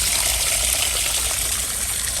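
Water trickling beneath a sheet of ice in a frozen drain in Kashmir's Aru Valley near Pahalgam, a steady, close, hissing flow with a faint low rumble throughout.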